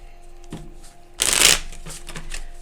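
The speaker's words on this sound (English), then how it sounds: "So I'm going to get one last shuffle of the deck as a whole." A triple deck of tarot cards is shuffled in one brisk riffle, a loud crisp flutter of cards lasting about a third of a second, with softer taps and handling noises before and after.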